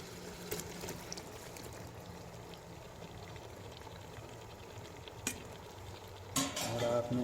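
Chicken and okra fry together in a pan, a steady sizzle running throughout with spoon scrapes and stirring clatter, plus a brief louder burst of hissing near the end.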